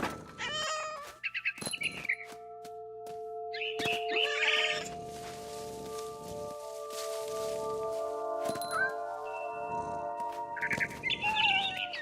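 A frightened bird chirps and tweets in the video game What Remains of Edith Finch, its sharp calls scattered across the scene alongside cat-like cries and game sound effects, with no talking.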